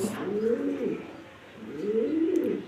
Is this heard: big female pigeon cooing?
yes